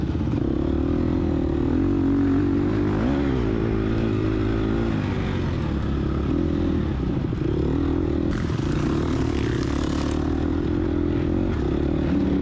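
A dirt bike engine revs hard during a harescramble race, a loud continuous buzzing snarl with rising and falling pitch and a sharp burst of high-revving near the end.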